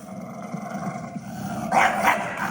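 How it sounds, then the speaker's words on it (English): German Shepherd dog in a fight with a white dog, growling steadily with a couple of louder, harsher bursts near the end, close and fairly loud. "My main concern would be getting this German Shepherd off of the white dog so the white dog can survive this."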